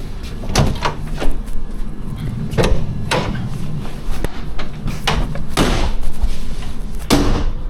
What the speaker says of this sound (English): Let me just get through this door.